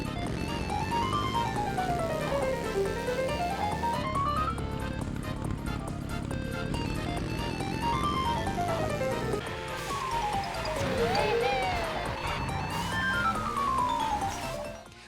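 Mario Kart 8 Music Park track with a kart driving along the keyboard road, musical notes running up then down in chromatic scales over a busy, steady game soundtrack, the pattern repeating several times.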